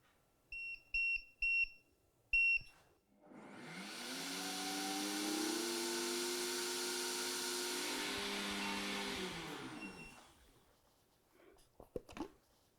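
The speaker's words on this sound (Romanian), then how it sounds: "Voi selecta acum funcția de blend pentru 20 de secunde." A soup maker blender beeps several times as it is set, then its motor whirs steadily at high speed for about seven seconds before winding down, followed by a few clicks.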